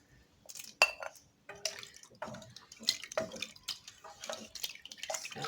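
Chicken breast and other ingredients dropped into a pot of simmering seafood soup, with irregular close splashes, drips and clinks of a utensil against the pot.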